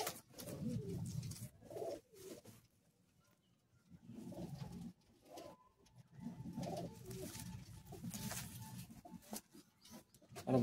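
Madrasi pigeons in a sale cage cooing in soft, repeated low bursts, close and moderately quiet, with short pauses between the calls.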